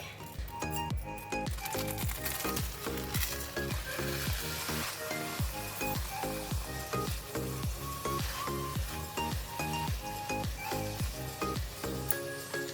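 A prawn omelette fries in a hot pan just after being flipped, giving a loud, steady sizzle that runs throughout, with a regular ticking pattern beneath it.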